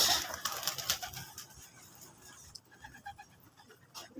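Pigeons in a loft, soft cooing and rustling close by, with scattered wing flutters and faint background noise throughout.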